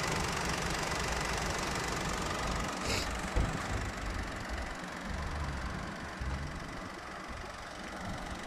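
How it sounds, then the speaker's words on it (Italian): A 2023 Opel Corsa engine runs at a steady idle, a continuous close low rumble with a faint knocking texture and no talking over it. "Il motore, lo sentite?"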